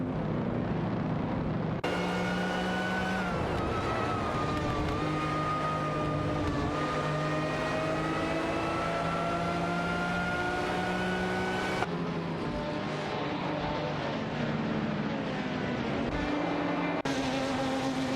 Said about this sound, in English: Zach from Source in the Lamborghini Miura 100 Savvy is fending off Yumyopaki in the Shelby GT3 66.